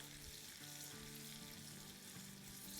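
Spices tempering in hot oil for masoor dal gosht, with Kashmiri red chilli added, give a steady, dense sizzle and crackle that holds evenly throughout, close and unbroken, with no talk.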